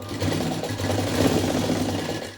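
Sewing machine fitted with a single presser foot stitching thread piping, running as a steady, continuous rapid whir for the whole stretch, close and alone with no talk.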